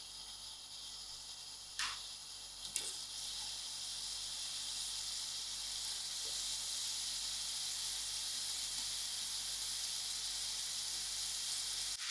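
Onions sizzle in hot oil in a pan while a tinned-fish samosa filling is started, a soft, steady hiss broken by a couple of faint clicks early on, continuing evenly with no voices.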